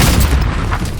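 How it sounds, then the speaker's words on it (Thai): A short, heavy explosion rumbles in Call of Duty Warzone Pacific, a deep boom with crackling debris that fills the whole brief moment, loud and close. "อุ้ยระเบิด"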